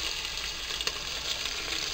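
Crushed black pepper and green chili sautéing in a hot pan, a steady close sizzle and crackle with faint stirring, no talking.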